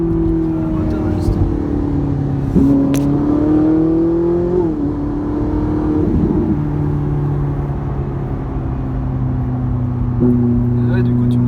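Ferrari 458 Italia V8 fitted with a Capristo exhaust, droning loudly and steadily under load with pitch rising through revs, a brief drop at each gear change, and people talking over it from inside the car.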